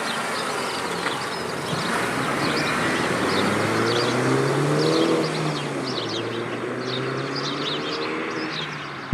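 Mini Cooper S retro car pulling away on a test drive, engine note rising steadily through the gears, heard from inside the cabin with a constant loud hum and whine, no talking.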